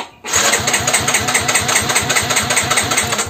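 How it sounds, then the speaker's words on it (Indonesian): A Yamaha scooter's electric starter cranks the engine close by, with a steady, rapid chugging pulse and a high whine running continuously under it. "lalu kita pencet double starter"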